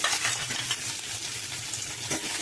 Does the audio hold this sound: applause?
no